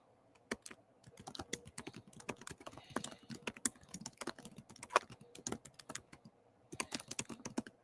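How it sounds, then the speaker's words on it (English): Rapid clicking keystrokes on a computer keyboard, irregular bursts of taps with brief pauses, close and fairly quiet, no voices over it. "he is over here typing"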